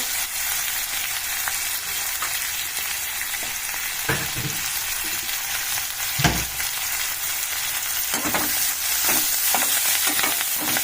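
Fenugreek leaves and turmeric frying in oil for a brinjal curry give a steady, close sizzle, broken by a few louder stirring scrapes and clinks against the pan.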